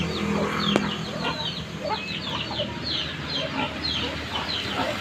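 Many chickens cluck and chatter in overlapping bursts, a busy flock close by with a low outdoor rumble beneath.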